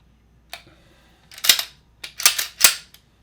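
A 9mm pistol is dry-fired, the trigger pulled and reset, giving sharp close mechanical clicks, one alone then a quick cluster of several snaps in a quiet room.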